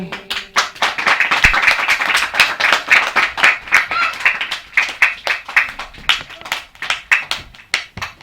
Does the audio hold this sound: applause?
yes